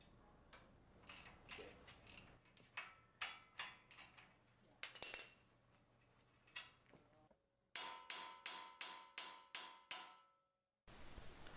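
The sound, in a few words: hammer striking tie rod taper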